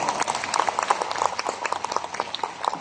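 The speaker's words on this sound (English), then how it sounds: "Please give Riway a round of applause." Audience applause at a leadership training seminar, a steady run of many hands clapping at moderate loudness for the whole stretch, with no voices standing out.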